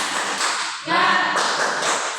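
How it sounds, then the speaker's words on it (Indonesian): A primary-school class doing a rhythmic spirit-clap routine in a classroom lesson: short patterned bursts of group clapping, fairly close, with children's voices mixed in and a louder accented burst near the middle. "kita tepuk semangat terlebih dahulu"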